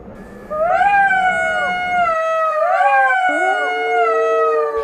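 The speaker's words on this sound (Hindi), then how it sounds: "सियार की आवाज खेत के कुछ दूरी पर रहने वाले किसान के कानों में पड़ गई।" A jackal near farm fields lets out two long, wavering howls, each rising and bending in pitch with overlapping tones, loud and close with no other sounds.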